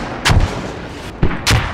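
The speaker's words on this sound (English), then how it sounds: "I got mortars landing" Mortar rounds landing in the military shooter Squad, several loud booming impacts in quick succession, each a short broadband crack with a low rumble, with no voices over them.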